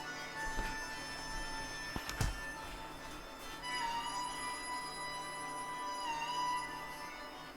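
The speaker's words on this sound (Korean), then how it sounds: "진동으로 해놨는데 소리가 나네요. 벨소리가." A mobile phone set to vibrate rings anyway in a lecture room, a faint repeating electronic ringtone with sustained tones over low room hum, plus a couple of brief knocks partway through.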